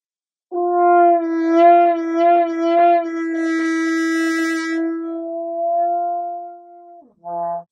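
A single French horn, played with the hand in the bell, holds a long sustained note, wavering and bending in tone, then a brief muffled low note closes it; close and full.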